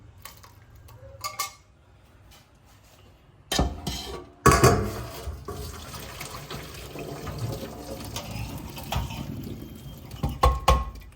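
Cooked chickpea dal tipped into a metal strainer: quiet clinks first, then a sudden wet slosh and clatter, followed by steady trickling and dripping of draining water with occasional utensil knocks.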